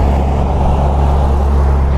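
A vehicle fitted with very large tyres drives past near a bus stop in a Kauai town in Hawaii, a loud, steady, close engine and road rumble with no talk.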